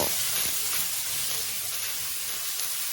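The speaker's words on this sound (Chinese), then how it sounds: "把辣椒、胡萝卜丝碟倒进去进行翻炒" Chili and carrot shreds stir-fry in a hot wok with oil, scallion and ginger, giving a steady close hiss and sizzle throughout with no talking.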